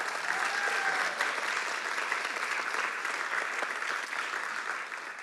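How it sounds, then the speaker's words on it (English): Audience applause greets the pro and con debate teams at a live debate event, a steady, dense wash of clapping that stays strong throughout, with faint crowd murmur underneath. "Big round of applause for our debaters"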